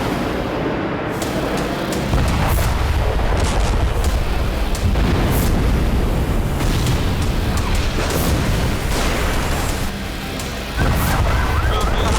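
Heavy bombing in Lebanon brings a dense run of loud booming blasts and crashing bursts, one after another over a rumbling background, with no speech.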